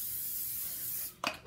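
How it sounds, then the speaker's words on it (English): Cooking spray hisses in one steady, continuous burst onto a pancake grill while buttermilk pancakes are made, then cuts off and is followed by a short clatter close by. "Make sure you spray your grill if you got a grill like this."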